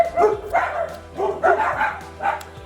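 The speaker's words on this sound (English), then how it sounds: "My dogs hear a noise and they think someone's at the door." Dogs bark at home in a rapid, loud series of four or five close barks in quick rhythm, with no talking.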